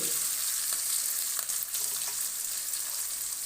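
Garlic and dried red chillies fry in a pan with a steady, close sizzle and crackle that runs throughout, with a few brief louder pops.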